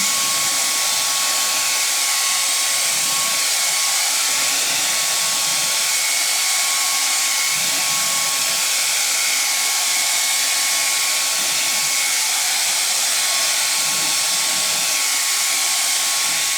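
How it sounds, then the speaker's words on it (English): A blow dryer runs steadily to dry stencil paint on a nativity scene craft project, giving a loud continuous whooshing hum with a faint whine that holds unbroken throughout. "Let's get this dry with a blow dryer."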